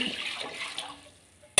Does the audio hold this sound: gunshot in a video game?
no